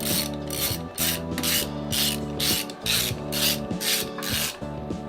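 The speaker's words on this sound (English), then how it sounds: "Yeah, let's take these bolts off." A ratchet wrench clicks in steady back-and-forth bursts, loosening bolts on a boat's 454 big block engine; the repeated rasping strokes come close and loud, with no talking.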